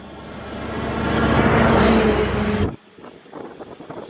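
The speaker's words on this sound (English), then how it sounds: "Sorry, that's a lorry." A lorry rumbles past outdoors, its engine noise swelling louder over about two seconds before cutting off abruptly, leaving faint background sounds behind.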